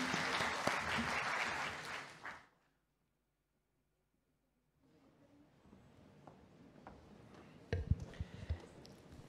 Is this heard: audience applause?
yes